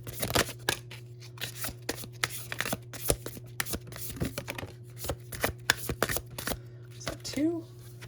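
Tarot cards shuffled briskly in the hands, a dense run of crisp riffling snaps and flicks lasting throughout, close by over a steady low background hum, with a brief draw near the end.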